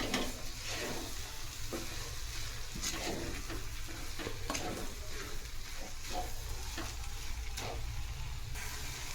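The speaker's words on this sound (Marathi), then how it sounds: "हे सर्व मिक्स करायचं आहे" Roasted sweet potato pieces being stirred with sugar in hot ghee for a sweet-potato kheer, a steady soft sizzle with repeated spoon scrapes against the pan, close and alone without talk.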